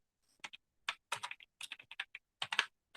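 Code is typed on a computer keyboard in quick, irregular clusters of crisp keystrokes, close and fairly quiet, with short pauses between bursts and no talking.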